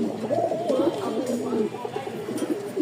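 A pair of pigeons of a fancy breed cooing together at close range, a continuous rolling series of throaty coos with overlapping calls and no pauses.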